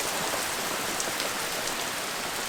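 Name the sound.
heavy rain pouring down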